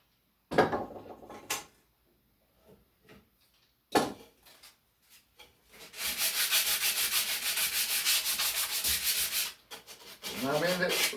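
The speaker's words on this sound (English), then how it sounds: "I go around this bottom edge with this sandpaper." Sandpaper rubbed around the bottom edge of a wooden shaving horse piece, starting with a few short scratchy strokes and then a long, steady, rhythmic stretch of close, loud sanding.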